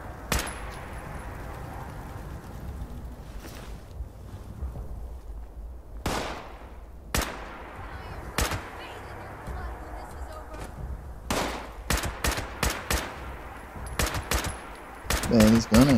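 Sharp gunshots from a firearm in Fallout 76 crack out in scattered single shots and then quicker bursts over a quiet ambient backdrop, loud and close, getting denser toward the end.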